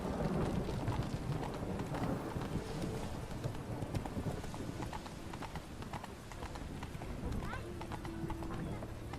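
Hooves of Roach, a horse in The Witcher 3: Wild Hunt, clip-clop steadily at a trot over constant game ambience with rain-like hiss and low rumble, while a voice talks over it.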